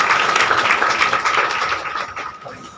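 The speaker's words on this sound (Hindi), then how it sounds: "जोर से उस परमेश्वर की महिमा के लिए हम ताली बजाएंगे" A church congregation clapping loudly for God's glory, dense continuous applause filling the whole moment.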